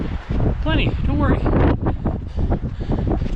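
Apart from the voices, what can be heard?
wind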